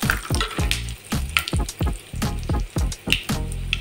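A pinch of asafoetida drops into hot oil with fried peanuts, giving a close sizzle mixed with rhythmic stirring and scraping of the pan, repeated bursts rising and falling every half second or so.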